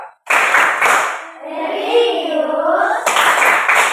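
A classroom group doing the PPK rhythmic clap, with loud, close bursts of clapping, then a short chanted pause, then clapping again, mixed with voices.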